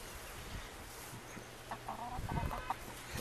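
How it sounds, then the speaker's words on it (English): Chickens clucking softly nearby, a few short clucks and murmurs scattered over a quiet outdoor background, rising a little toward the end. "My chickens."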